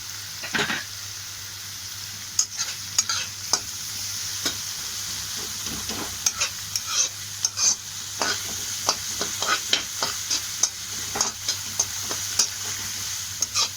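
Green chillies sauté for restaurant-style chicken fried rice, a steady pan sizzle broken by repeated sharp clicks and scrapes of a spatula stirring, close and fairly loud, with no talking.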